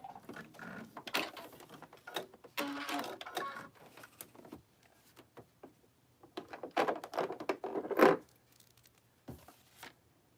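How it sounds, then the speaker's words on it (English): Sewing machine stitching a foundation paper pieced hummingbird quilt block through bulky seams: several short, quiet bursts of whirring stitching separated by pauses, with nothing else prominent. "So stitch slowly. I just skipped a stitch right there because I went too fast."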